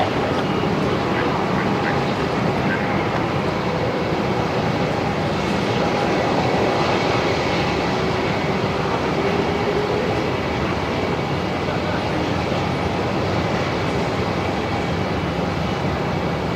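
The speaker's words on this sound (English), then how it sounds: "the Qantas 330 is doing a repositioning flight up to Sydney as Qantas 6039, just beginning its takeoff roll now" A Qantas Airbus A330 airliner starts its takeoff roll on runway 34 at Melbourne Airport, a steady broad engine roar that holds loud and continuous throughout, with faint radio-style talk mixed in.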